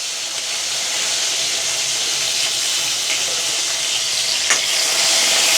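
Dried red chillies sizzling in hot oil in a village kitchen, a dense, steady hiss of frying that holds evenly from start to finish with no voices.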